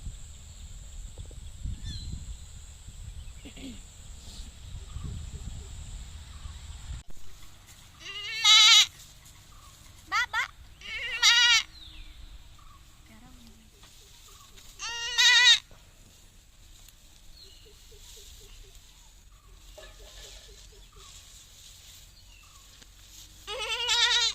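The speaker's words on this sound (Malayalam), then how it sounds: "അതുണ്ടോ ആടുകൾ നിൽക്കുന്നുണ്ടോ, ഇത് കൊണ്ടുവന്ന് കെട്ടിയിരിക്കുകയാണ്" Several small goats tethered and grazing in a tea plantation give a few loud, separate bleats, each about a second long, over quiet outdoor background with some rustling early on.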